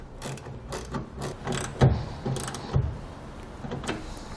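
A 9/16 socket wrench ratchets as it tightens a clamp on a BAKFlip MX4 hard tonneau cover fitted to a 2015 Ram 2500, producing a series of close, uneven clicking bursts with brief pauses between them.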